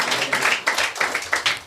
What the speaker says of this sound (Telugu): చప్పట్లు కొట్టి ప్రభును ఘనపరచుదుముగాక.